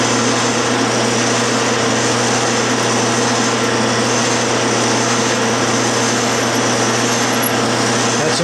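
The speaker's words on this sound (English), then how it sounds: "do not center drill it very deep" A steady, loud machine whir drones continuously with a high metallic whine on top, a lathe center drilling metal stock.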